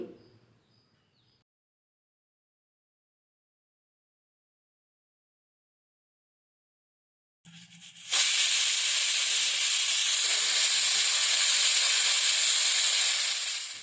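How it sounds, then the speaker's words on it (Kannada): After a long silence, a pressure cooker cooking white pulao lets out a loud, steady hiss of escaping steam that holds for several seconds before trailing off. "ಇವಾಗ ಲಿಡ್ ಕ್ಲೋಸ್ ಮಾಡಿ ಒನ್ ವಿಸಲ್ ಹೊಡೆಸ್ಕೊಳ್ತೀನಿ"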